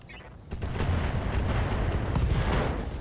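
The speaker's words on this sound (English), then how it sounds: "Our Hoplite would be firing next. I kind of want to hit the Archer here. In artillery mode." A Hoplite mech in the RogueTech BattleTech game fires artillery: a sustained, loud rumbling barrage of booming blasts that rolls on for several seconds after a quieter opening.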